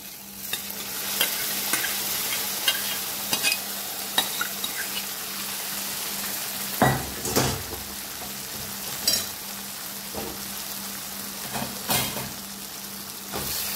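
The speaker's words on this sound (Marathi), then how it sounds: "सगळं व्यवस्थित मिक्स करून घ्यायचं आहे" A spoon stirs sambar with cooked toor dal in a pot, with repeated scraping strokes at an irregular pace, over a soft steady sizzle.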